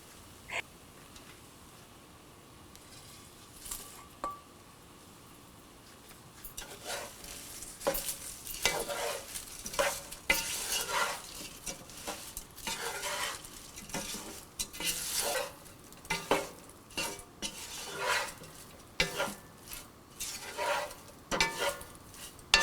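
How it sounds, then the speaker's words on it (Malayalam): A spoon scrapes and stirs through prawn and tapioca biryani in a pot with a soft sizzle, mixing in fried coconut and mustard seeds, repeated strokes growing louder after a quiet start. "നമ്മൾ വറുത്തെടുത്ത നാളികേരവും കടുക് വറുത്തതും ബിരിയാണിയിലോട്ടിട്ട് മിക്സ് ചെയ്യുക."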